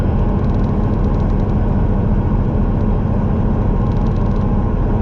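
Truck engine droning steadily at low RPM in high gear at highway speed, a constant loud low rumble with road and cab noise throughout and no talking.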